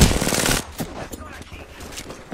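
Gunfire in a battle royale video game opens with a loud burst of rapid automatic shots that stops sharply, followed by scattered quieter shots and thuds.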